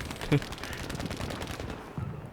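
Selbstlader 1916 rifle fire in Battlefield V, with one sharp, prominent shot early on standing out above a busy backdrop of distant gunfire and battle noise, plus a softer report near the end.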